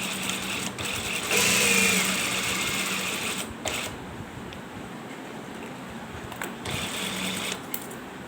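Sewing machine stitching the waistband casing of a ladies' shalwar, a steady close whirring run with a louder stretch early on and brief pauses and restarts, no voices.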